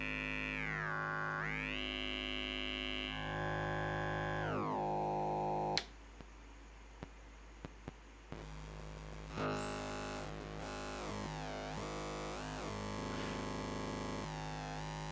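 An MMF synthesizer filter in self-resonant mode produces a sine tone folded into a harsh, buzzing, distorted drone with sweeping pitch. It runs continuously and loud, breaks into a noisy crackling stretch with sharp clicks partway through, then returns with gliding high whistles.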